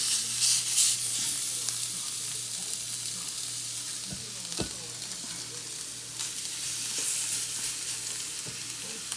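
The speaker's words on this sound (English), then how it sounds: "So you want to hear that sizzle." Meat sears in a hot non-stick pan, a steady, loud, close-up sizzle and crackle that holds throughout, with occasional faint stirring knocks.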